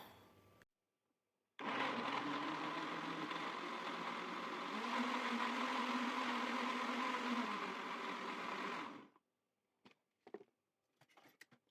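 A blender whirs steadily for about seven seconds, blending a strawberry yogurt drink sweetened with a little honey, starting abruptly and cutting off, with faint kitchen clatter afterward.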